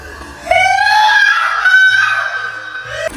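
A person screams loudly and continuously for about three seconds, a high sustained wail with a wavering pitch, close and alone during a mystery-box challenge.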